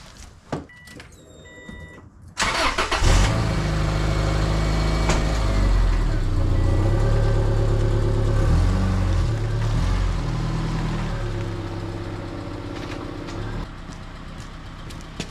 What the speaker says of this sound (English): we'll fire it up and drive it out and let it idle for a little bit, and hopefully it's a lot quieter